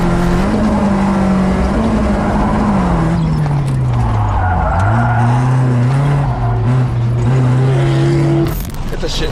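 A race car on a wet and dry track roars loudly and close, its engine note climbing, dipping and climbing again as it drives, with speech heard over the engine.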